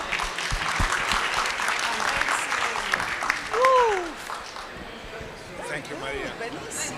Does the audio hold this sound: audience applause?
yes